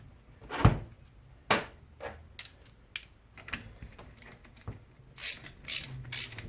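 A starter bolt is tightened on a Buick Nailhead engine during a starter bushing fix: light metallic ratcheting clicks and taps, irregular and close, with a few sharper clinks near the end. No voices.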